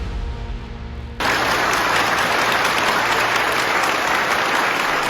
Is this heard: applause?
yes